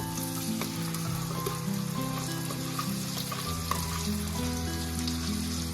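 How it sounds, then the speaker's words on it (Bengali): Whisked yogurt being stirred into a tomato, ginger and garlic masala frying in oil over a low flame for a Bengali egg curry. A steady, moderate sizzle runs throughout, with soft scraping from stirring and a low hum beneath. "খুব ভালো করে এটাও মিশিয়ে নিতে হবে যতক্ষণ না তেল ছাড়ছে"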